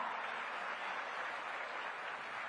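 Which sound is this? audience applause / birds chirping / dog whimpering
audience applause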